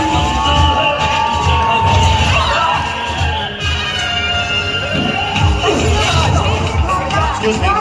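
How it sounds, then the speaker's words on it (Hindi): Crowd at a public event in Gwalior welcoming Bhavan School students, with loud continuous cheering, whoops and children shouting over a dense babble of voices, near and steady throughout. "जोरदार तालियों से स्वागत है भवन स्कूल के"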